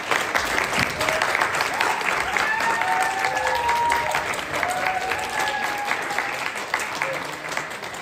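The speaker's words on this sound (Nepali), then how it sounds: "ताली बजाइदिनुहोस्।" Sustained audience applause at a wedding ceremony, a dense crowd of many hands clapping steadily throughout, fairly loud and close, with faint overlapping murmur.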